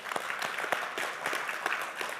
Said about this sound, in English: let's give Jerisha a clap